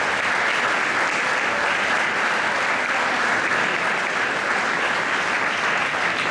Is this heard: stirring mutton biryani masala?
no